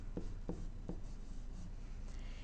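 Pen writing out a math function on paper, a few short close scratches early on followed by softer, quieter rubbing strokes, with no talking.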